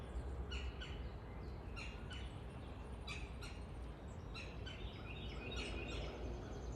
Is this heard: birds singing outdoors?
yes